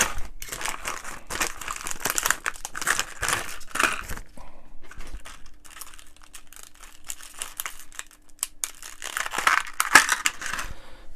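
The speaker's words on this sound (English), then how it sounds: "So issue 25, let's get the parts into the bag." A plastic parts bag for a Fanhome Iron Man Mark III model kit is handled up close, giving dense, continuous crinkling that pauses midway to a near-quiet stretch and then resumes loudly.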